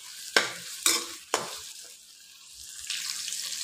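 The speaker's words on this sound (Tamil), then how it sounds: "இதெல்லாத்தையும் சேர்த்து நல்லா வதக்கி விட்டுக்கலாம்." Onion, ginger and garlic are stirred in a pan while sautéing, with three sharp scraping clanks of the utensil followed by a soft, steady sizzle that grows slightly louder near the end.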